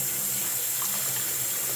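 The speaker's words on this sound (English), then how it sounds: "Notice that water is coming back up out of the filler neck" Water gurgles and rushes back up out of the fuel filler neck of a Chevy Silverado, a steady close splashing flow for the whole stretch with no talk.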